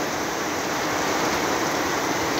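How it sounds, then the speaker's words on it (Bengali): Heavy rain pours steadily outdoors, a dense continuous hiss of drops with no breaks, loud and close throughout. "এখন পর্যন্ত প্রচুর বৃষ্টি পড়তেছে বাইরে, প্রচুর পরিমাণে বৃষ্টি"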